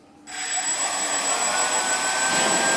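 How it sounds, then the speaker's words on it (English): Small quadcopter drone motors whine up as the throttle is opened, a steady high-pitched buzzing hum that starts abruptly and holds loud and close, with no talking. "now, to get it flying, I'm just going to release my finger on the throttle"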